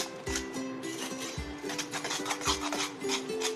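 Eggs mixed into plum cake batter in a bowl, a repeated scraping and rubbing of utensil against the bowl in an uneven rhythm, close and moderately loud without speech.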